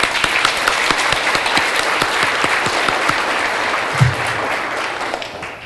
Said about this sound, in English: I'd like to give a round of applause to our police department for helping us